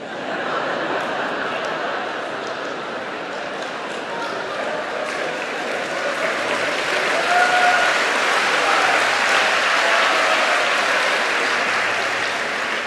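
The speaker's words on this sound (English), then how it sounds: "Why are we clapping?" An audience claps continuously at a live motivational talk, a thick wash of hands that swells slightly toward the end, with a few faint chuckles and murmurs mixed in.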